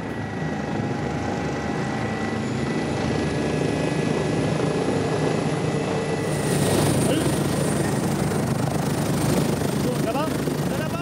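A gendarmerie high-mountain rescue helicopter flies with a steady, loud rotor and engine drone throughout, the roar swelling slightly partway through, with no talk.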